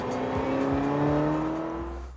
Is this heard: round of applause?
no